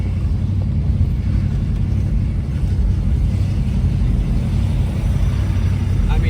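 A worn-out 1976 Chevy Nova engine runs rough at idle with no throttle, a steady heavy low rumble filling the scene throughout with a faint voice underneath.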